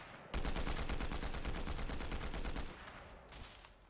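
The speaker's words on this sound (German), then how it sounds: "Ein paar Schüsse" Rapid automatic gunfire in Fortnite fires as one loud, dense burst of repeated shots that lasts about two seconds, then drops to quieter game noise.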